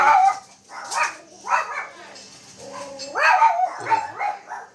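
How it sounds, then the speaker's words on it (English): Several dogs barking at a country home, some indoors and some in the yard, bursts of loud nearby barks and yips in an uneven rhythm with short pauses between. "They hear something outside, they got to bark"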